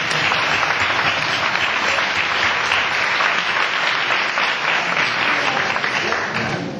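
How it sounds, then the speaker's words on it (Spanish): An audience in a lecture hall applauds warmly for a family member named in the room, a thick, continuous wash of clapping that holds steady throughout with no talk above it. "Un aplauso para Lucía, por favor."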